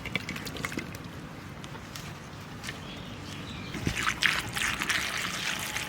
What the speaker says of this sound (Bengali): জল দিতে হবে আবার